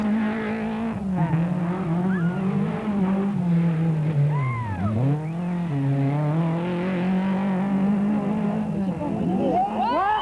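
A Renault Clio Williams rally car attacks a stage of the 1999 Rallye Fina Madagascar, its engine close and loud, rising and falling through gear changes with a brief dip and quick revs, as the car races along throughout.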